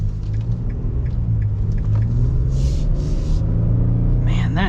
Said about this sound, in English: Man, that NA V6, like, just boom response.